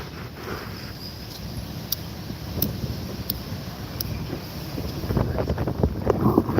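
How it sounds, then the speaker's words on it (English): Strong wind gusts outdoors buffeting the microphone with low rumbling noise that builds toward the end, with faint higher clatter near the water, no one talking. "Ooh, it's windy."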